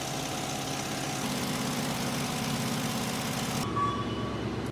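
A V8 engine runs under load on a stationary dynamometer in hot fire testing at an engine plant, giving a steady, continuous rumbling drone with a dense mechanical roar throughout.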